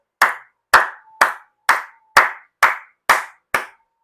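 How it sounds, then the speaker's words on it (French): Eight sharp hand claps from a single person, evenly spaced about half a second apart, close and crisp, each with a brief ringing tail, with no voices. "Donc, j'applaudis encore."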